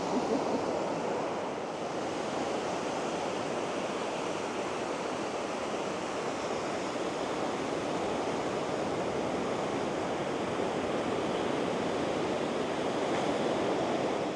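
Ocean waves washing onto the beach at sunrise at New Smyrna Beach, Florida, a continuous soft surf roar with faint wind noise and no talking.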